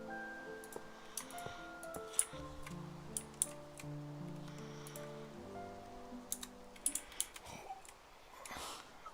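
Light, irregular clicking of laptop keys, soft and close, with a sustained tonal hum running underneath; no talk.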